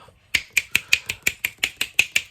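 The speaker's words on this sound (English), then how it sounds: "snapping your fingers at some of these rankings?" Finger snapping in a steady, quick rhythm of about a dozen sharp, crisp snaps, close and clear with nothing else behind them.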